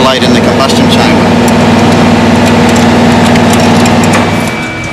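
A Qantas Boeing 707-138B jet engine running at the start of engine light-up, a loud continuous roar with a steady low hum and broadband hiss, easing slightly toward the end.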